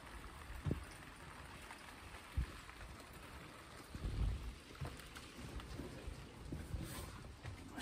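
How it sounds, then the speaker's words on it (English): Rain falls outside as a faint, steady hiss of patter, broken now and then by a few soft low thumps, with no voices. "You guys hear the rain?"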